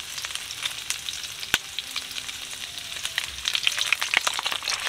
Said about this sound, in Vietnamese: Cái này mình chiên dồi xả với chả cơm luôn nha.